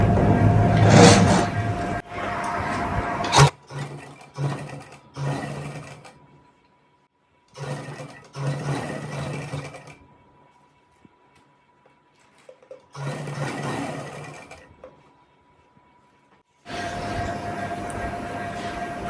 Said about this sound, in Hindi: जो हमने एक्स्ट्रा फैब्रिक को लिया था यहाँ पर इस तरह से फोल्ड करते हुए सिलाई को लगाना स्टार्ट करेंगे